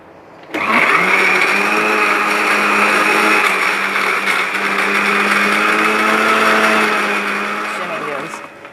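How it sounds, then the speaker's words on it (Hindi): A kitchen blender whirs loudly and steadily for about eight seconds, blending watermelon juice with ice cubes. The motor starts abruptly and holds a constant high whine close up before tapering slightly at the end. "अब थोड़ा सा 2 से 3 सेकंड के लिए हम और ब्लेंड कर लेते हैं।"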